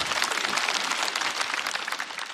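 A studio audience at a stand-up comedy show claps steadily, a dense, even burst of applause filling the room with no voices over it.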